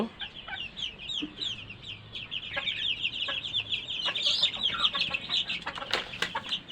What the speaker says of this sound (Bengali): এই হচ্ছে আমার ফার্মি মুরগির বাচ্চাগুলো